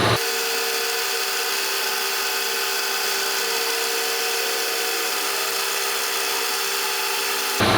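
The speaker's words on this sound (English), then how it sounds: "Drilling in that unsupported end isn't the best idea, but just trying to mark the center." A drill runs continuously at a high, steady whine, biting into plastic up close and loud for several seconds before stopping.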